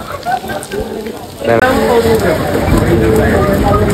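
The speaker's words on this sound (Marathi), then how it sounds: "पाऊस जोरातच येतोय" Heavy rain pours down outdoors, a dense hissing patter that swells sharply louder about halfway through and stays steady, with people talking underneath.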